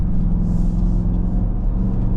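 Deep, steady engine rumble from the Hemi V8 in a 2025 Dodge Durango R/T 20th Anniversary Plus, a continuous loud low drone with slight swelling, close by and alone with no talk.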